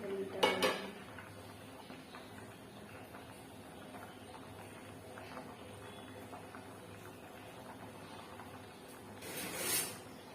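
A metal lid clanks onto a pot of green gram (pacha payaru) being cooked in a home kitchen, one short clatter near the start and another near the end, with a quiet room and faint stove hiss in between.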